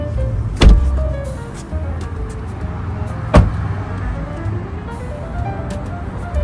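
A Tesla Model Y 2026 parked and locking itself, with its side mirrors folding in: a steady motorized whir with two sharp clicks or thumps, close by, and no talk.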